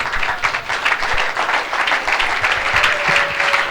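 Church congregation at a worship service applauding and cheering loudly, dense sustained clapping with shouts mixed in, close and continuous.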